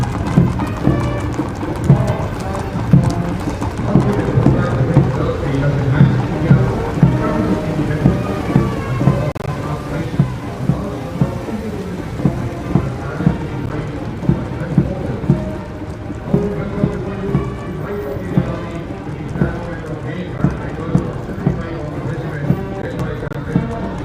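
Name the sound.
horse hooves clip-clopping on tarmac in parade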